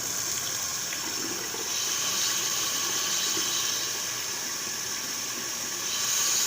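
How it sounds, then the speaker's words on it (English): Hot water runs hard from a tap into a sink, a steady broadband gush that swells louder partway through, close and continuous with no talking. "let's get some hot water going"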